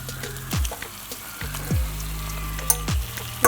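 Eggs going into hot oil with curry leaves in a pan for a Kerala-style egg roast, a crackling sizzle broken by a few low thumps and clinks of handling, no voices.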